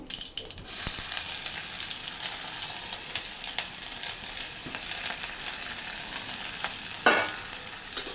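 Chopped onion, added to crackling seasoning for a Telugu vankaya curry, sizzles steadily in a pan over low to medium flame, with intermittent stirring scrapes and a sharper clatter near the end.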